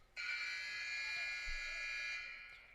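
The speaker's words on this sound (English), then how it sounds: "That will be the buzzer." A loud, steady electronic buzzer blares for about two seconds at a high school boys' varsity basketball game, then cuts off and fades.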